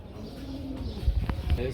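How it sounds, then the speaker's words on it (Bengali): A single white pigeon coos softly and close by, a low throaty rolling call repeated a few times over faint background noise. "একটা সিঙ্গেল কবুতর দেখতে পাচ্ছি আমরা হোয়াইটের মধ্যে"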